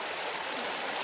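A creek in south central Alaska flowing nearby at a campsite: a faint, steady wash of running water with no voices.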